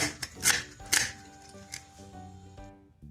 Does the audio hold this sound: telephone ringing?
no